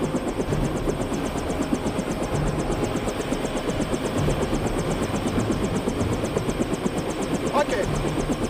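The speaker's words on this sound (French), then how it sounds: "L'hélicoptère est là." A helicopter idling near a landing strip, its engine whine and rapid rotor chop steady and close, filling the scene continuously with a faint voice briefly beneath it.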